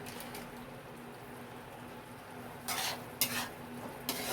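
Chutney being stirred in a pot after a pinch of black salt goes in: a few brisk, scraping stir strokes near the end, standing out over a low steady hum, close and moderately loud.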